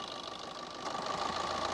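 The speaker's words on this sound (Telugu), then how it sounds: "చూడండి, ఇంజిన్ ఆన్ అయింది." A car engine idles steadily with the AC compressor engaged, making a continuous mid-pitched hum and a faint ticking pulse, heard close and alone. The car has a weak AC cooling problem.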